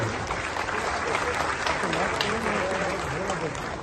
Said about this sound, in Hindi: आपकी तालियों से यह हॉल गूंजना चाहिए